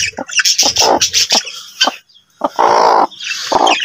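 A hen clucks in short, sharp bursts, several agitated calls with brief pauses between, close by and fairly loud.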